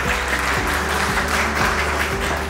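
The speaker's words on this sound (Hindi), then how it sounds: "सर एक बार जोरदार तालियां।" A crowd at an awards ceremony gives loud, sustained applause, a dense, even wash of clapping that holds steady over a background hum, with no clear speech.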